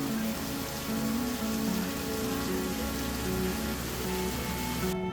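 Steady rain pattering on a surface in Thailand, dense and continuous, close and even in loudness from start to finish.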